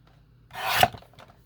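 One sheet of paper ephemera is trimmed in half for a craft folio, a single short, close rasping cut that swells and ends with a sharp snip, followed by faint rustling.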